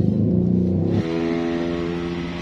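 A used motorcycle engine starts and settles into a steady idle, its rough low rumble changing pitch as it catches about a second in, running loud and close throughout with no talk.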